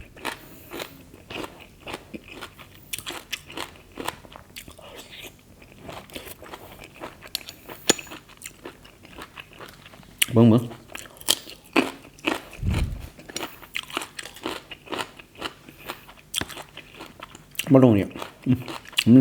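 Close crunchy bites and chewing of large blood cockles eaten with crisp kale and a fermented fish dipping sauce, with repeated crackling chews and a few louder crunches between bursts of talking.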